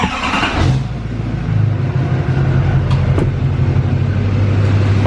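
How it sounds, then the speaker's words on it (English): A 2020 Duramax diesel pickup truck's engine cranks briefly and catches. It then settles into a steady, close, rumbling idle with a constant low drone. "we're gonna fire the truck up"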